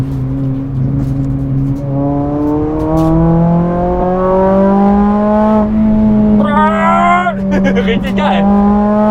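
Honda Civic Type R FN2 engine revving on the Nordschleife track, a loud close tone climbing steadily in pitch through the revs over several seconds, with a brief spoken remark near the end.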